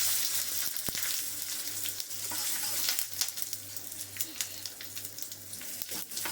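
Chana dal, curry leaves and asafoetida sizzle in hot oil for a tempering, a loud steady frying hiss with crackling pops and occasional stirring clicks.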